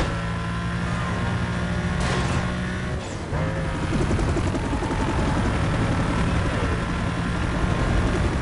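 A police helicopter in Need for Speed: Most Wanted, its rotor drone steady and close above continuous road and engine noise, holding level throughout with no talk.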